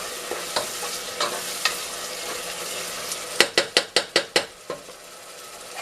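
Ghanaian jollof rice ingredients sizzle steadily in a pot while a spoon stirs and scrapes with scattered clinks, then a quick run of six sharp, evenly spaced knocks against the pot near the end.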